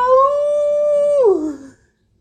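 A single long wolf howl rings out clear and loud, holding a steady tone before sliding down and fading to silence.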